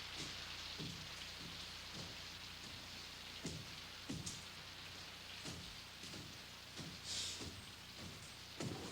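Steady rain falling outdoors, a continuous hiss of drops on surfaces with scattered louder splashes and patters, fairly faint and without any voices.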